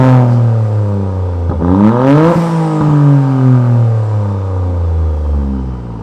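Toyota GR Yaris with an Aulitzky valved exhaust, valve open, revving loudly and close: a steady drone that climbs sharply around the middle, then eases back down to a rumbling idle.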